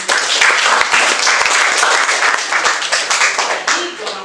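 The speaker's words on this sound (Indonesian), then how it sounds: "Kita berikan aplaus untuk sini." A classroom of students applauding a classmate during a physics lesson on waves: dense, loud, continuous clapping from many hands nearby, sustained for several seconds before thinning slightly at the end.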